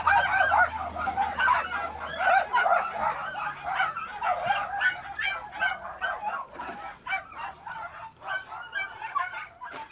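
Several dogs yip, bark and whimper excitedly in quick, overlapping bursts at a desert camp where people live in their cars. The sound is close and busy, with a faint low hum underneath.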